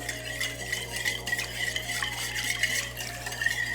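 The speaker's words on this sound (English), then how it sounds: "I'm just gonna whisk this all together until it's smooth." A steak marinade with black pepper being whisked in a bowl, a close, rapid, continuous scraping and clinking with a faint hum underneath.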